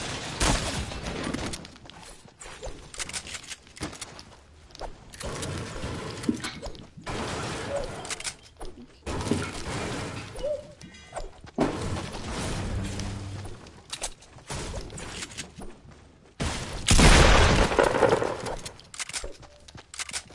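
Building materials being smashed apart in a video game, a continuous clatter of impacts and breaking hits with a heavy burst near the end, loud and close, with occasional brief gaps.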